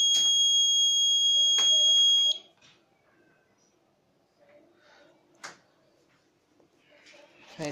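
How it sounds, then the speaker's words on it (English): Fire alert alarm from an IoT industrial monitoring system: a loud, continuous high-pitched electronic tone for about two seconds, then cutting off, followed by quiet speech and faint clicks. "Fire alert."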